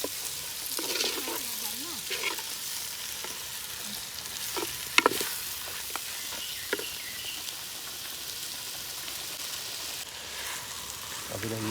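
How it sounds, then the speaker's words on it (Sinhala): Seasoned wild pork for a Sri Lankan village-style curry sizzles steadily in a pan while being stirred, a continuous close frying hiss with occasional scraping knocks of the spoon. "අපි දැන් මේක මේ විදිහට පොඩ්ඩක් කලවම් කරනකොට"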